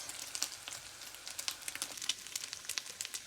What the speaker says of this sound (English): Gonna just cook some more bacon for these bacon cheeseburgers.